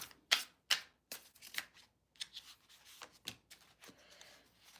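A deck of cards is shuffled during a live card reading: several sharp riffling bursts, then a looser run of softer rustles and flicks, close and clear, with no talking.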